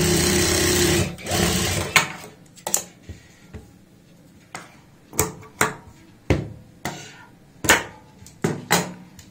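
A sewing machine runs briefly while stitching a blouse, then gives way to a string of sharp clicks and handling knocks, close by.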